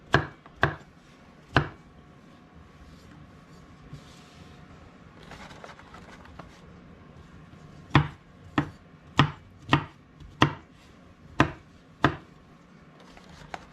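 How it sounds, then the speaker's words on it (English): Knife chopping food roughly on a board for a slow-cooker meatloaf: a few sharp cuts, a pause, then a quicker run of about eight crisp, close chops. "It's kind of a rough chop."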